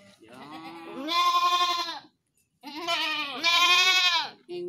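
Javanese Jawa randu goats on a goat farm bleat loudly and close by: two long, wavering calls separated by a short pause, then the start of a third.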